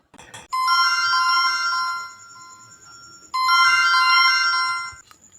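A phone rings with an incoming call, a loud, bright electronic ringtone melody sounding close by in two long bursts separated by a quieter pause.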